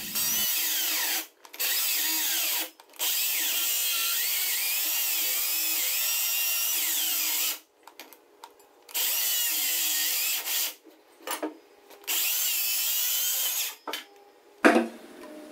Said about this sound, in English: before you cut your boards down the length, that you check the battery life on your saw